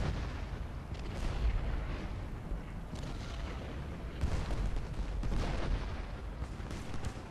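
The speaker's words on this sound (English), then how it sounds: "Right, here comes the artillery." Cannon fire from Civil War artillery in the video game Ultimate General: Gettysburg, a rolling series of low booms and crackling volleys at a distance, rising and falling in waves with no pause.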